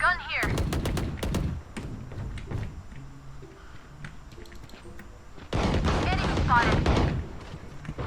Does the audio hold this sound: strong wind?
no